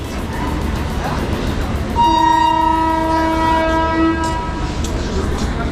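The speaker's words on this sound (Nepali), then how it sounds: "यहाँ ट्रेन छ" A train stands at a railway station platform, a steady low rumble broken by a long, loud horn blast, with people talking in the background.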